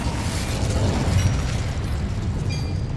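The Incendio fire spell bursts in Hogwarts Legacy as a loud, continuous roaring blast of flame that fills the whole stretch without any voices.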